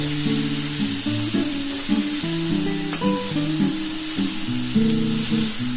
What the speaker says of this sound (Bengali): এবার এই মশলাটা আমি ভালো করে কষিয়ে নেব